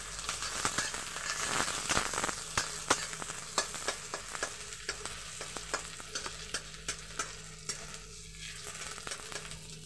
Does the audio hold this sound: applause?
no